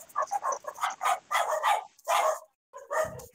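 Dogs bark repeatedly in quick bursts of yips and woofs, loud and close, picked up during an online game voice chat, with a short pause before a final bark.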